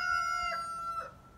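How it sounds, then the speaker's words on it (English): A rooster crows in a long, drawn-out call, rising and then falling away, with a few soft clucks from chickens nearby. "Sorry about the chickens."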